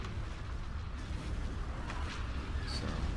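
Laser cannon and turbolaser fire in a Star Wars Empire at War space battle, with a steady low rumble and scattered sharp zaps and booms throughout, moderately distant.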